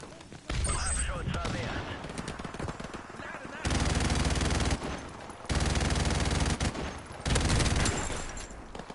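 A gun turret hammers out long, loud automatic bursts in Call of Duty Modern Warfare Remastered, several sustained volleys separated by brief pauses, with a voice speaking over the game.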